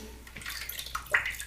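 Water trickles and splashes into a bowl of shaving soap lather, a soft continuous wash with a small brighter splash near the end, close by and without talk.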